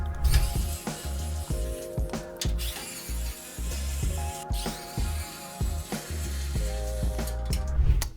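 Screws being removed from a PC case to flip it, heard as repeated close ratcheting clicks from a screwdriver in short bursts separated by brief pauses, with no talking.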